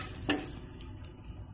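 Curry leaves and ginger garlic paste sauté in hot oil for tomato rice, with a quiet steady sizzle and one sharp stirring clink near the start.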